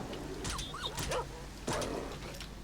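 Guard dogs in S.T.A.L.K.E.R. Shadow of Chernobyl give a few yips and whimpering barks at middle distance, quiet against a steady game ambience.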